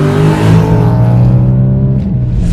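A B6 Audi S4 with its 4.2 litre V8 runs with a loud, close, rich engine drone that holds steady and dips slightly near the end. There are no voices over it.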